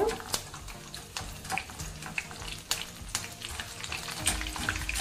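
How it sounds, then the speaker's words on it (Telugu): Cashews and curry leaves frying in hot oil for kaju pakodi, a continuous bubbling sizzle with scattered crackles and spoon clinks, close and moderately loud, with no talk. "చూసారు కదా, మనం ఈ విధంగా ఫ్రై చేసుకుంటే సరిపోతుందండి."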